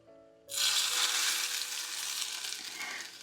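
Palak paneer ingredients dropped into a hot pan burst into a loud, steady sizzle after a brief quiet moment, frying hard and fading only slightly over a few seconds.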